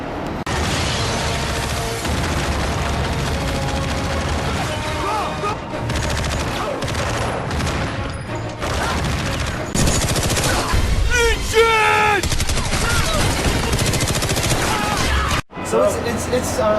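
Rapid automatic gunfire from a compact M4-style rifle, long loud sustained bursts of shots with mechanical clatter, briefly cut off near the end before resuming.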